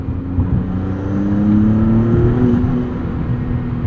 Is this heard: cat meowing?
no